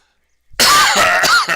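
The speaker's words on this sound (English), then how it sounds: "We're both coughing a bit here." A sudden burst of coughing and throat clearing, loud and close, with two or three rough hacks after a quiet start.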